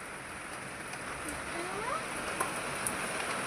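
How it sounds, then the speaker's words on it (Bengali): Steady rain falls outdoors, a continuous hiss of drops on surfaces with a few louder individual splashes, moderately loud with no talking. "আবার ওখানে মামা বেশি জোরে বৃষ্টি পড়ছে"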